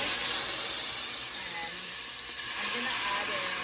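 Red wine hits a hot sauté pan and simmers for a Portuguese white navy bean stew, a steady loud hiss and sizzle that eases slightly midway, with faint speech underneath.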